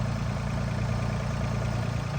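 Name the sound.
RoboEvo machine engine running at low revs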